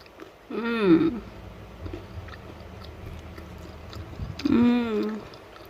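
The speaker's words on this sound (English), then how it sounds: "listen to that, the crunchiness" Crunchy bites into a baked sausage bread roll with a crisp crust, two close, loud crackling crunches a few seconds apart, with soft chewing and faint murmurs between them.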